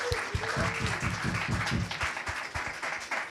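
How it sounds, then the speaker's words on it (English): Audience applause at the Spirit1 show, steady clapping from a crowd with cheering, moderately close and continuous. "Let's give them a round of applause."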